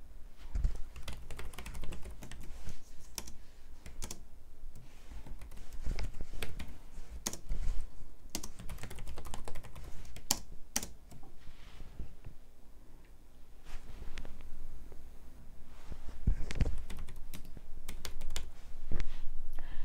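Typing on a Logitech K380 lavender lemonade keyboard produces a steady run of light, close key clicks in irregular bursts, with occasional louder taps, heard alone without talk.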